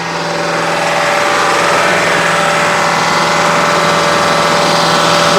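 A truck engine held at raised RPM by an ambulance's RPM controller, a steady loud drone with a constant harmonic whine, sustained close to the microphone with no voices.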